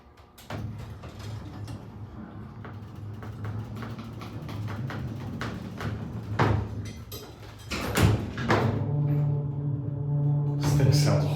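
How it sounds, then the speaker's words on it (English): A Montgomery G&P hydraulic service elevator door at a shopping mall slowly closes in a fault state, with mechanical clunks, rattles and a steady low hum. A louder knock comes near the end, and a voice speaks over the machinery. "The door does not close when you push the button. And it takes forever to shut."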